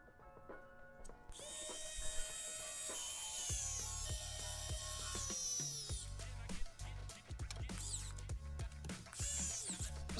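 A screwdriver tightens the screws of a PC water-cooling monoblock from the back of the motherboard, giving close, quiet ratcheting clicks and small metallic scrapes in irregular bursts.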